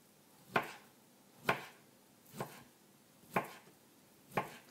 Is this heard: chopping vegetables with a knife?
yes